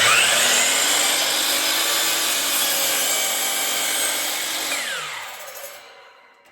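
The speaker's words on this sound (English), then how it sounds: "make another inside bevel cut, slicing off just the very end of your piece" A power saw makes an inside bevel cut through the end of a piece of wood trim, a loud steady whirring rip that winds down at the end of the cut.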